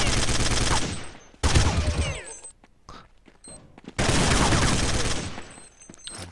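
Bursts of gunfire in the Counter-Strike map de_train during a competitive match, loud rapid volleys in two main stretches separated by a quieter gap, with no talk over them.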